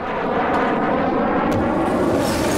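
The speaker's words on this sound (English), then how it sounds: "Where's the airplane?" In the video game The Forest, an airplane flies overhead with a loud, continuous engine roar that fills the scene, steady and close, with no voices over it.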